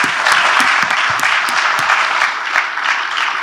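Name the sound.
audience applause for panel speakers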